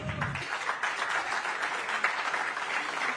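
Applause at a cyber hackathon prize ceremony: a steady, dense burst of many hands clapping in a hall, sustained and even throughout after a brief moment of voice at the start.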